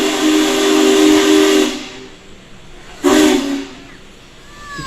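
A Union Pacific Big Boy steam locomotive sounds its steam whistle in a steady, loud, sustained blast of nearly two seconds, then a second shorter blast after a brief pause, with hissing steam underneath.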